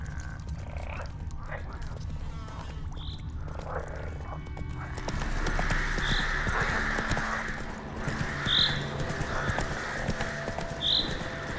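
Roach, a horse in The Witcher 3, galloping with steady clip-clop hoofbeats under game music and ambience, occasional snorts or grunts mixed in, moderately loud and continuous.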